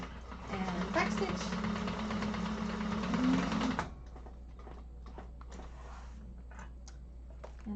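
A sewing machine back stitches a seam on a hobo bag, a loud, steady mechanical whir for about four seconds that stops abruptly, leaving faint ticks and quiet room sound.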